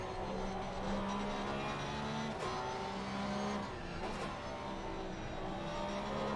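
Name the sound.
Porsche GT3 race car engine in a racing video game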